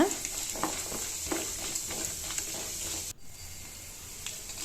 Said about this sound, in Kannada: ಒಂದು ಅರ್ಧ ಸ್ಪೂನ್ ಜೀರಿಗೆ ಕಡಲೆ ಬೀಜ ಉದ್ದಿನಬೇಳೆ ಕಡಲೆಬೇಳೆ ಫ್ರೈ ಮಾಡ್ಕೊಳ್ಳೋಣ ಈಗ